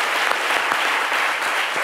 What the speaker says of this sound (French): On applaudit d'ailleurs.